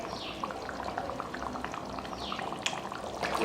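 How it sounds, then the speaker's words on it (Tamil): Goat leg soup bubbles and simmers gently in a pot on the stove, with soft popping and hissing at low volume. "அதனால் மறுபடியும் அடுப்பை ஆன் பண்ணி கொதிக்க வைக்கலாம்."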